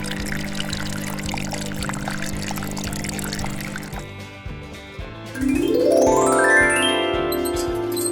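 Water pours steadily from a custom LEGO machine to water plants, with a constant hum under it. Partway through, the flow drops away and a bright rising sweep of tinkling tones takes over.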